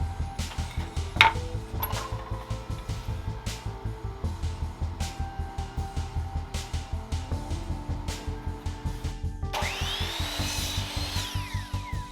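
Wood is sawn with straight cuts for dresser legs: a fast, even run of rhythmic strokes, close and fairly loud, with a brief higher-pitched rasp near the end.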